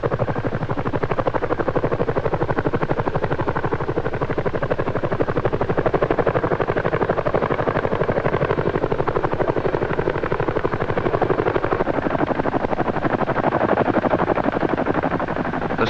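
A CH-47 Chinook twin-rotor military helicopter approaches during a 1977 airlift of an air defense system, its loud, relentless rotor thumping and engine roar filling the whole stretch without pause.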